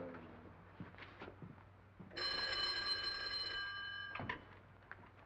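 An old-fashioned telephone bell rings in a 1939 crime mystery scene, a loud continuous metallic trill lasting about two seconds that cuts off abruptly, with quieter room noise and a faint clatter before and after.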